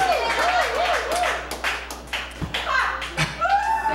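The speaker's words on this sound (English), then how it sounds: "You guys will clap at anything." Scattered audience clapping at a live comedy show, moderate and uneven, interrupted by voices and a couple of low thumps before fading.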